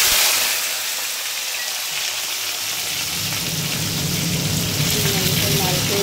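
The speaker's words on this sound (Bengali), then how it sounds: "দিয়ে কালো জিরেটা দিয়ে এবার সিম আলুটা লাল করে ভেজে নেব" Flat beans and potatoes fry in hot oil seasoned with black cumin (nigella), giving a steady, dense, close sizzle that hisses evenly throughout with no pauses.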